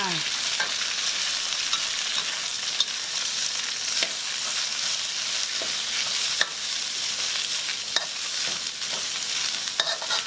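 Chinese kale with crispy pork stir-fries in a hot pan, giving a constant hiss of sizzling broken by scattered clanks of the spatula against the metal, close by and without talk.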